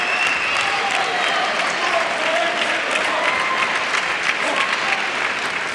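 A crowd at a table tennis match applauds in steady, sustained clapping, moderately loud throughout, with a commentator talking over it.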